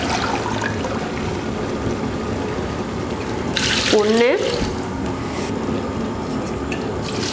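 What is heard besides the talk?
pouring water into biryani rice and masala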